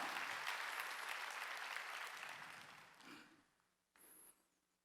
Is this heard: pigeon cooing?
no